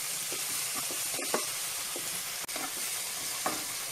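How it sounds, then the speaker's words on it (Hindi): Chopped tomatoes frying in a pan for a spicy brain masala curry, a steady loud sizzle with occasional stirring scrapes and small pops, close and continuous without talk. "इसमें 3 कटे हुए टमाटर डाल देंगे। और इन्हें भी अच्छे से पका लेंगे।"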